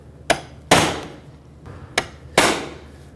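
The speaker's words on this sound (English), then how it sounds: "the way to properly unlock them is to put a punch right in the center" A hammer drives a punch through the center of a single-use plastic trim rivet on a 1998-2011 Ford Ranger, giving four sharp close metallic strikes, with the second and fourth hits heavier and ringing a little longer.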